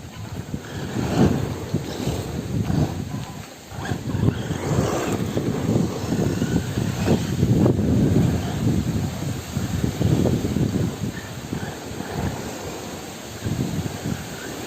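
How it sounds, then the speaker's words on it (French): Heavy wind buffeting the microphone in loud, rumbling gusts that swell and dip continuously at an outdoor RC car track, with no clear voices. "Beaucoup de vent."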